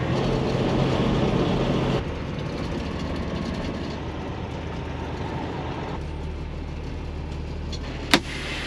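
Cummins ISX 15 diesel engine in a semi truck idling steadily with one injector out, a continuous low rumble with a brief click near the end.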